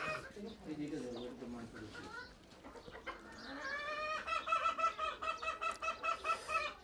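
Chickens cluck and squawk as a bird is chased to be caught in a Bangladeshi yard, rising into loud rapid repeated calls near the end, with people talking over the commotion.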